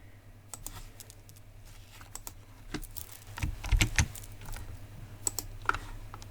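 Computer keyboard keys pressed for shortcut commands while working in Canva, a quick run of close, crisp clicks and taps with a louder burst of keystrokes near the middle, over a low steady hum.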